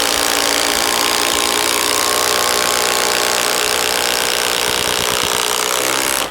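A Bosch Freak impact driver sinks a 5/16 Spax structural screw, a loud, continuous rattling hammer of rapid impacts lasting about six seconds close up, then stopping abruptly.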